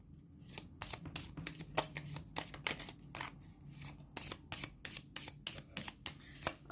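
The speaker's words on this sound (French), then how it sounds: "on va mélanger le paquet" A deck of playing cards for the board game D'Orge et de Blé is shuffled by hand, giving a rapid, irregular run of crisp snapping flicks, close and clear, repeating throughout.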